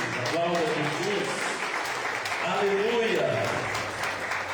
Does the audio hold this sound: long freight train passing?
no